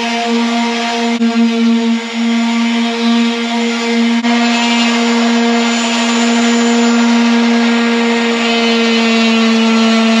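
A power sander works steadily over car plastic panels, a continuous loud whine with a strong even hum, running alone without a break for about ten seconds.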